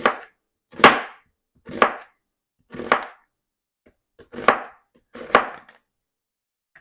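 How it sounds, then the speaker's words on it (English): A knife slices quartered onion on a board in six or so separate strokes about a second apart, each a crisp close crunch followed by silence, with no talk. "And I'm going to slice it like this."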